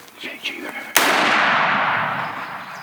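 A single rifle shot cracks loudly during a twilight billy goat hunt, its sharp report decaying into a long outdoor echo, with faint rustling before it.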